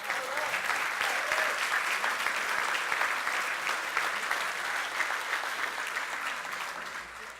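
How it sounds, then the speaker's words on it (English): Sustained, dense audience applause at a 50th anniversary celebration, a steady wash of many hands clapping for several seconds, moderately loud and fading only slightly at the end. "That deserves an applause."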